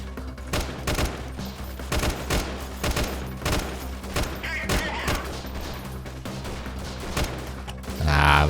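Repeated gunfire in the video game Freeman: Guerrilla Warfare, steady single shots at roughly half-second intervals, loud and close, ending in a heavier blast.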